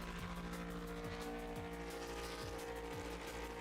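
A GT3 race car engine roars continuously in a racing video game, with repeated rising gear-change sweeps and occasional tyre squeal, steady and fairly loud, layered over background music.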